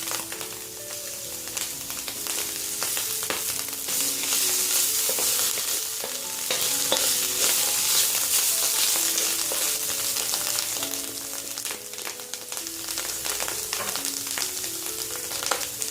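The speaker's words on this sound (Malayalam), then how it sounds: "ഇനി ബെൽ പെപ്പർ ചേർത്ത് കൊടുക്കാം." Bell pepper goes into a pan of mushroom and egg cauliflower fried rice, keto style, and sizzles constantly as the mixture is stir-fried, with frequent clicks and scrapes of the spatula against the pan.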